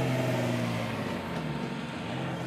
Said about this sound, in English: my car is warming up right now